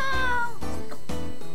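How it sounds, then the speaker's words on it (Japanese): A cat meows close and clear, several drawn-out mewing calls in quick succession with no talking over them. "猫たん。"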